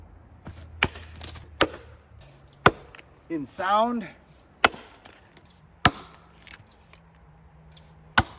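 Axe chopping wood outdoors: sharp, loud isolated chops and cracks spaced a second or so apart, with a brief scraping, splintering rasp in the middle and faint background sounds between strikes.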